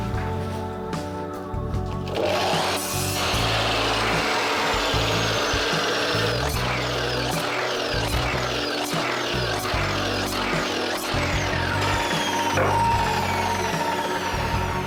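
Steady, rasping hand-saw strokes cut through wooden boards for a cellar door close by, a continuous gritty scraping with no talking.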